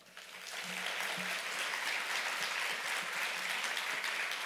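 Warm, steady applause fills a church during a Wednesday worship service as a pastor is welcomed forward, swelling quickly and holding as a dense, moderately distant wash of clapping with no voices over it.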